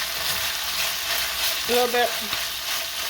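Chicken pieces sizzle and fry in a pan for kung pao chicken as they are whisked around, a steady crackle under a brief stretch of speech.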